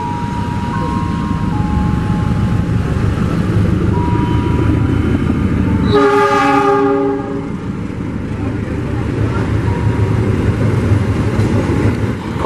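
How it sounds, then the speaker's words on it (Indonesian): The Saunggalih passenger train rumbles loudly close by as it departs Cibatu station in Indonesia, and a long blaring horn sounds midway, rising over the steady roar of the passing cars. "kereta api Saunggalih berangkat kembali"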